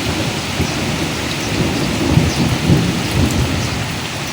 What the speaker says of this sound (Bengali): দেখেন কত জোরে জোরে ঠাডা মারতেছে।